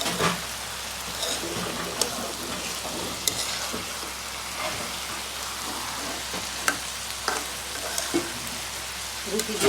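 Potatoes fry in a pan, giving a continuous crackling sizzle with sharp pops and small spatters scattered throughout, close and fairly loud.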